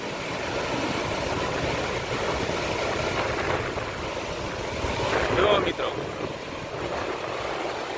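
A waterfall in the Barda hills roars as a steady, broadband rush of falling water, buffeted by wind noise on the microphone, with a brief louder swell midway.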